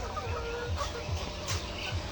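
Layer hens on a poultry farm cluck and murmur together, a dense, continuous flock chatter with repeated low clucks close by.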